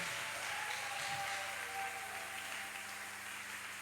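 A congregation applauds loudly during a Sunday church service, producing a dense, steady roar of clapping that lasts throughout with no voices above it.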